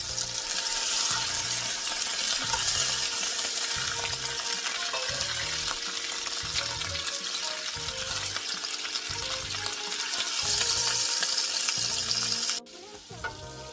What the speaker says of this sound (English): Fish has been searing for about 2 minutes.